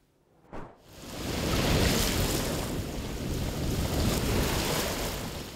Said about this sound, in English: the wind and waves providing a serene soundtrack